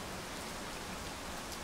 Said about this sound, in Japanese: ご丁寧に今日だけ雨だ。